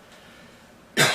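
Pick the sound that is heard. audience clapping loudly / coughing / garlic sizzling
coughing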